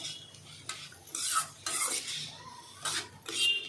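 A spoon stirs bitter gourd sautéing in an open pan with tomato, giving bursts of scraping and sizzling in an irregular rhythm, close up and without talk.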